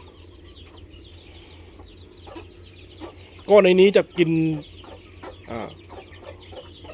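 Twenty-day-old chicks in a farm pen give a brief burst of loud clucking and chirping calls near the middle, with someone talking before and after and faint background chatter throughout.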